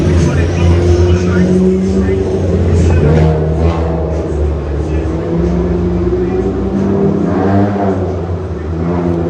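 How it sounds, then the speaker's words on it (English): Cars and motorcycles pass outside an apartment in Pennsylvania, producing a continuous drone of engines and tyres with rising and falling revs, heard under a person talking. "That sound of the cars and the motorcycles going past my apartment"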